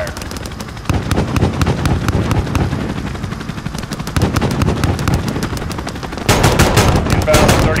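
Air support unloads heavy gunfire in Call of Duty Modern Warfare, with sustained rapid-fire bursts rattling loudly and continuously, growing harsher and louder in a final heavy barrage.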